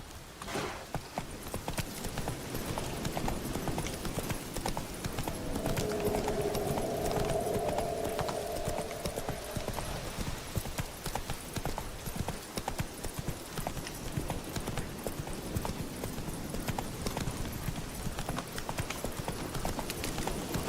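The horse Roach's hooves clip-clop steadily in The Witcher 3: Wild Hunt, a continuous close trotting rhythm over ambient game sound, with a brief whinny-like tone partway through.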